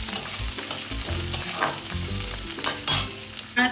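Chopped onions frying in oil in a pan, a continuous close sizzle broken by clanks and scrapes of stirring, with no voices.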